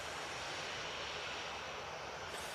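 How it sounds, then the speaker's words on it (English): Steady, broadband roar of a TUI Boeing 737 jet engine at Manchester Airport, constant and loud throughout with no talking. "Tui next to go. .737. Going to be heading to Corfu"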